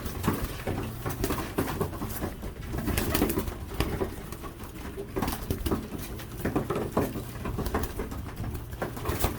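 Racing pigeons coo in a loft, a dense overlapping murmur of soft throaty calls close by, with light pattering and fluttering throughout.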